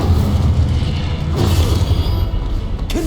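Incendio fire spell cast in Hogwarts Legacy, a dense, roaring whoosh of flame with low booming rumble that holds steady and loud for the whole stretch, with a brief sharp flare near the end.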